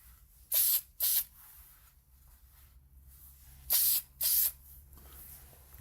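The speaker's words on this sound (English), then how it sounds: "Just a quick spray for the top," Two pairs of short aerosol clear coat spray bursts, each a sharp hiss lasting about half a second, separated by quiet pauses.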